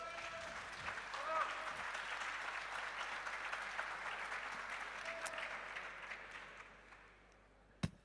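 Audience applause fills a French national private-housing conference hall, a dense, steady wash of clapping that holds for several seconds, then thins and fades, ending with one sharp final clap.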